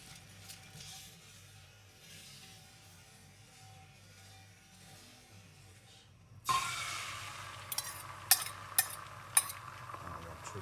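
Vegetables go into an IKEA Vardagen carbon steel pan after a quiet stretch of low hum, then a sudden bright sizzle rises and holds with several sharp clinks of utensil against the pan.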